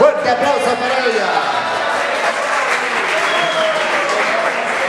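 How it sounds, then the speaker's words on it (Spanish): An audience applauds loudly and steadily, dense clapping filling the room throughout with some crowd murmur and a voice briefly audible at the start. "Un fuerte aplauso para ella."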